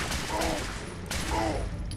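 Gunfire in Fallout 4 aimed at a dog, sounding as a dense burst of rapid shots with a second volley after a short pause, loud and close against a steady noisy background.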